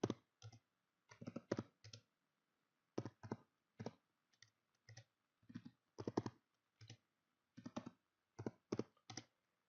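Numbers typed on a computer keyboard as chart data is entered, heard as quick bursts of crisp key clicks separated by short pauses; close and clear, with no talking.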